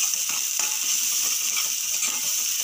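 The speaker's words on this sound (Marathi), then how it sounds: "तेल सुटेपर्यंत वाटप फिरवायचं बघा." Crab curry masala paste frying in hot oil while being stirred: a steady, bright sizzle throughout, with scraping, clicking stirring strokes underneath, close and fairly loud.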